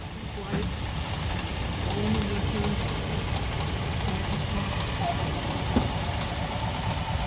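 A 1941 Cadillac Model 6227 Deluxe Coupe engine with all-new lifters idles low and steady, a soft, even rumble with faint ticks over a constant background.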